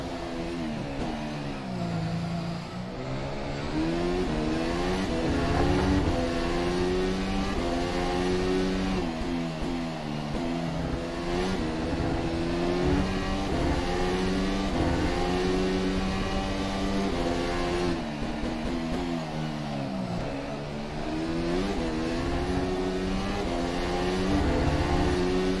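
Zakspeed formula car in rFactor 2 at Montreal, engine screaming steadily through a lap with harmonic pitch sweeps as it upshifts, brakes and revs back up, loud and continuous with no voices.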